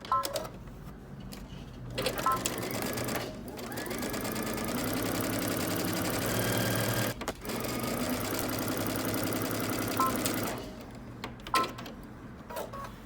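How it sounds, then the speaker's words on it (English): A sewing machine stitches a seam across the shoulder of a garment, running steadily and close for most of the stretch, with short pauses near the start and end and brief stops where the fabric is repositioned. "Now you're going to stitch across the shoulder."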